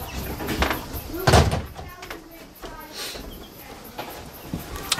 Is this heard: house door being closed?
yes